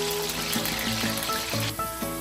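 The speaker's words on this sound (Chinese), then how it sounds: "来，热锅我们就炸了这个马铃薯先" Potatoes deep-frying in hot oil in a wok give a steady hiss and sizzle with some bubbling, heard close and alone.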